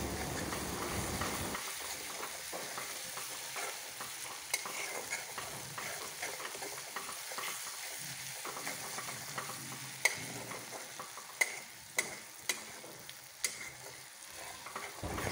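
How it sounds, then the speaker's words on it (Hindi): Masala for chilli prawn stir-fried in a pan, a steady close sizzle running throughout with scraping stirs and a few sharp clicks of the spoon toward the end. "इसको और भी अच्छे से भुनना पड़ेगा, जितना अच्छा भुनाई होगा उतना अच्छा टेस्ट भी इसका बढ़ेगा"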